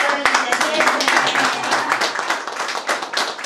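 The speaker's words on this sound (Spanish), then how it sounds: "aplauso porque le tocó el corazón al" An audience applauds at a local community event, a dense, continuous patter of clapping with a voice speaking over it.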